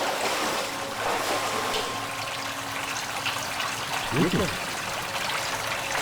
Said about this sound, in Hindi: इस गटर का पानी इस तरफ जा रहा है